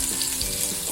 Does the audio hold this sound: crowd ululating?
no